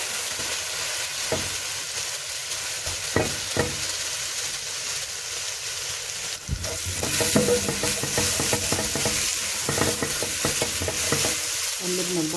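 Onion and garlic frying in a pan with a steady close sizzle, interrupted by repeated scraping and stirring strokes that grow busier in the second half.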